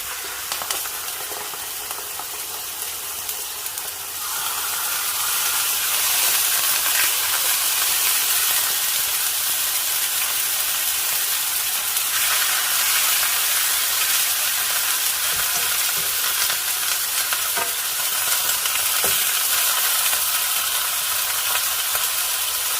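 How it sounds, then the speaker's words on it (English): Meat for tacos sautéing in a pan, a continuous loud sizzling hiss that swells after a few seconds and holds steady, with occasional faint stirring ticks. "I specifically want this to saute, get soft, and then kind of evaporate whatever liquid's left in the pan for tacos tonight"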